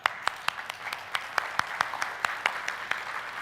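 An audience at a keynote speech claps on request, with sharp individual claps standing out over a softer spread of scattered clapping, roughly several hits per second and fairly loud.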